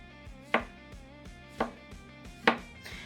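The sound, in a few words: knife chopping white onion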